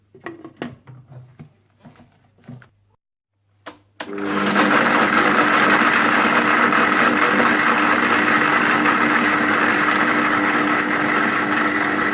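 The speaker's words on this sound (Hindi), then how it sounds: "ब्लेंडर में बादाम और थोड़ा सा दूध डालकर अच्छी तरह से ब्लेंड कर लीजिएगा" After a few clinks and taps, a blender starts up and runs loudly and continuously, whirring as it grinds almonds with milk into a paste.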